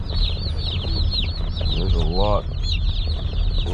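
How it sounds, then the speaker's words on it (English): Young meat chicken chicks in a small brooder box chirp constantly at high pitch, a dense overlapping chorus close by, with a brief voice partly audible beneath it. "Listen to them. They sound so cute. Very chirpy."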